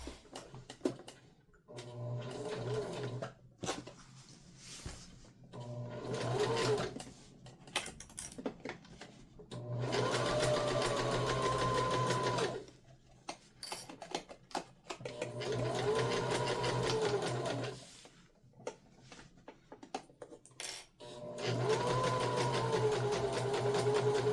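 A domestic sewing machine bastes a bag seam at a narrow eighth-inch allowance, running in several close, steady bursts separated by short pauses.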